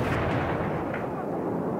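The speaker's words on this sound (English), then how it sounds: "Seconds later, another blast." Massive explosion blast rolling out as a deep, sustained roar, loud and dense throughout with a booming low rumble and no voices over it.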